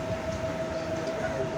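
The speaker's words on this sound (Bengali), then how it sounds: "এখন দমদমের দিকে রওনা দিচ্ছে এই ট্রেন।" A Bangaon local train pulling out of Bidhannagar station heading toward Dum Dum, a steady rumbling roll heard from inside the carriage with a thin high whine running through.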